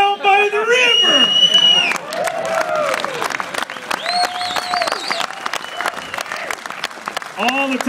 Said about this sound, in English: I never thought anyone would ever clap